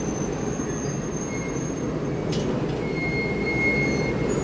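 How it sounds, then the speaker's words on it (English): An orange monorail at the Magic Kingdom resort rumbles past with a steady low roar, a brief hiss and a faint high whine of wheels running under the continuous noise. "Monorail orange."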